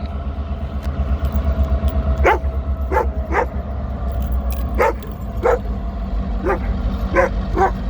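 A dog near a rail yard with an idling yard engine barks in short, sharp yips, several times in a loose, excited rhythm, over a steady low engine rumble.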